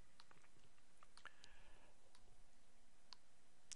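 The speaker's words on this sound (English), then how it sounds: "You may hear a slight clicking while it's doing that." A Lego NXT brick clicks faintly while its firmware downloads: sparse clicks and small ticks sound irregularly at close range against a quiet background.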